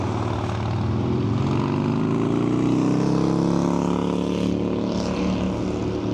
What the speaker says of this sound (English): that motorcycle that went past us